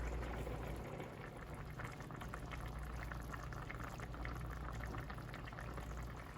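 Paella simmers on low heat in a wide pan spread over three burners, giving a quiet, continuous bubbling and gentle popping with no voices.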